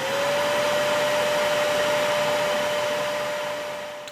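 A fairy's seed vacuum machine runs in a loud, steady whir with a constant whining tone for about four seconds, fading slightly at the end, with no voices.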